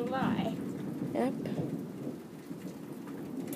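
Thunder rumbles through a summer lightning storm over steady rain, a low rolling boom under faint distant voices and the patter of rain on surfaces.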